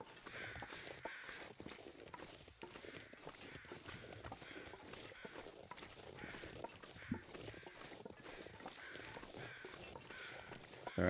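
Crows in The Long Dark caw faintly and repeatedly in the distance, mixed with soft footsteps and a constant noisy outdoor background.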